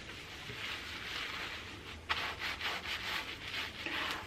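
Soft, close squishy rubbing of shampoo lathered into hair, starting gently and turning into rhythmic repeated strokes, quiet and without talk.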